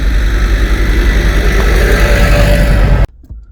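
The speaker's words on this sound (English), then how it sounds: "So let's see what this absolute beast sounds like when you take it onto the road." A 2014 Suzuki Swift Sport fitted with a Remus exhaust driving, its engine giving a loud, close, steady drone that cuts off abruptly near the end.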